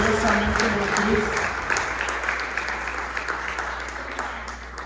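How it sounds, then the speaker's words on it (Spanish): A church congregation claps in praise during a sermon on the resurrection, close, full applause that starts with some voices over it and then continues as steady clapping. "¿Por qué no le dan un aplauso al Señor?"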